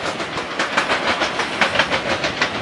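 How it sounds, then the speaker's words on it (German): Another train passing behind the platforms at Leipzig central station, a steady rolling clatter with hissing and faint rhythmic clicks, fairly even in level throughout with no voices. "Die Geräusche im Hintergrund sind aber von einem anderen Zug."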